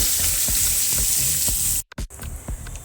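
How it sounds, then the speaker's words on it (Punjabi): Finely chopped onions sizzling in hot oil with roasted cumin, a loud continuous frying hiss with small pops and stirring scrapes, briefly cut off near the end before the sizzle resumes. "ਹੁਣ ਇਹਦੇ ਵਿੱਚ ਆਪਾਂ ਬਰੀਕ ਕੱਟੇ ਹੋਏ ਪਿਆਜ਼ ਪਾ ਦਵਾਂਗੇ ਪਿਆਜ਼ਾਂ ਨੂੰ ਆਪਾਂ ਭੁੰਨ ਲਵਾਂਗੇ"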